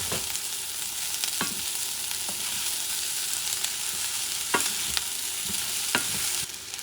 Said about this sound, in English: I'm going to mix everything here. Add the fish with the rice.